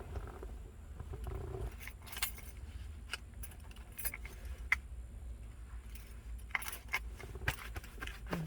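Car keys jangle near the microphone in a 2004 Chevy Trailblazer, with a run of small metallic chinks and rattles spread across the moment over a low background rumble.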